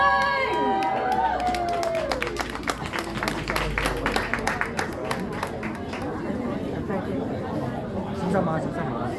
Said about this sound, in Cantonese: 攞熱烈嘅掌聲！